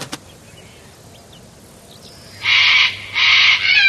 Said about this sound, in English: It sounded like the screech of the black cockatoo.